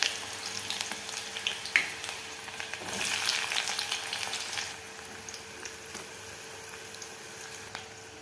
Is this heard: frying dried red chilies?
yes